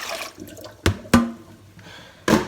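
A pot of cooking water from turnip greens is dumped into a kitchen sink: a short pour, then two sharp metallic clanks of the pot, a trickle, and another clank at the end.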